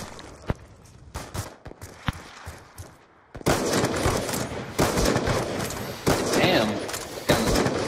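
Gunfire from a free-for-all video game match opens with scattered sharp single shots, then rapid bursts over dense, noisy battle sound, while a player talks.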